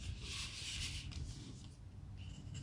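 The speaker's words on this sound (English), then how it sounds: "and then fold on this first segment." Scored paper being folded and creased into a treat box, a soft close rubbing and sliding of paper with faint scraping, quiet and alone without speech.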